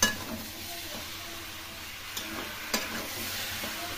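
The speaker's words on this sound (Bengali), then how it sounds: "এখন খুব ভালো করে কষিয়ে নেব।" A paste of tomato, green chilli, cumin and coriander sautés in a pan for pumpkin curry, an even hiss of frying with occasional soft clinks of a spatula, near and unvoiced.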